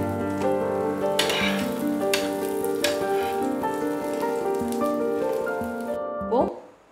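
Pav bhaji roasts in butter on a stove, sizzling and crackling steadily up close, with occasional stirring scrapes and a brief clatter at the end.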